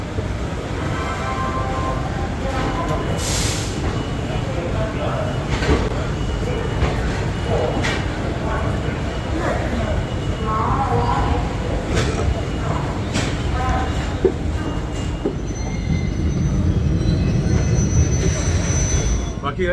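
The Mahamana Express running onward from Varanasi Junction toward Delhi, heard from inside as a steady loud rumble and rattle of the moving coach, with occasional wheel squeals and someone talking over it.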